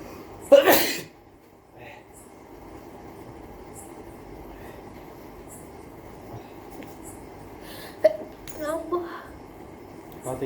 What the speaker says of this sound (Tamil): நான் இப்பதான் தும்பினேன், மறுபடியும் தும்புறேன்.